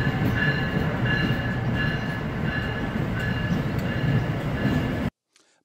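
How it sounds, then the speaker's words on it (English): An Amtrak passenger train leaving Washington, D.C.'s Union Station makes a steady rolling rumble with a rhythmic clatter of wheels over rail joints, then cuts off abruptly near the end. "Our summer 2018 New York trip with Nancy started out of Washington, D.C.'s Union Station via Amtrak."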